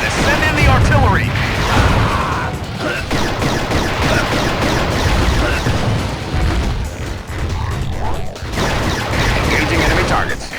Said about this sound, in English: This thing is shooting at us. Send in the artillery.